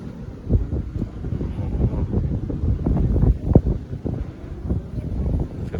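Strong wind gusts at an exposed high point, buffeting the microphone with uneven low rumbling surges that rise and fall across the clip, with no speech.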